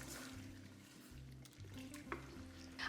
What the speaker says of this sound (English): And then we'll stir that in with our shells.